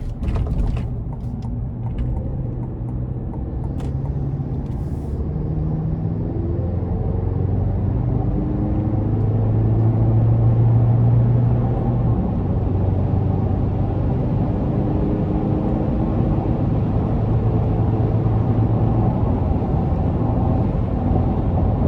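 A 2024 GMC Canyon AT4X pickup accelerates up an interstate on-ramp at moderate throttle, heard from inside as a steady engine rumble that rises in pitch through the gears and holds loud and continuous.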